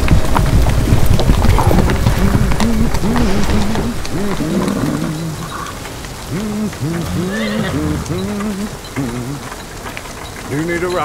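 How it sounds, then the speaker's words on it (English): Steady heavy rain hisses throughout an animated Berserk scene while people talk over it, their voices close and clear above the constant downpour. "The rain's quite heavy."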